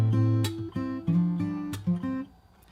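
Fingerstyle acoustic guitar plays the first bar of the pre-chorus of a song, picking bass notes and melody together with percussive slaps and slides. It sounds close and clear with no voices, and the last notes fade out.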